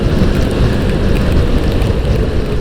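Light drizzle falls during a motorcycle ride on the highway toward Lucknow, a steady, loud wash of rain and rushing wind with no break.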